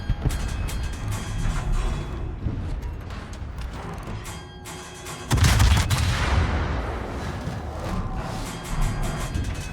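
Naval gun volleys from the Italian cruiser Venezia in World of Warships: a loud, booming salvo bursts out midway, set among rattling mechanical clicks and low rumble, close and heavy, with no talking.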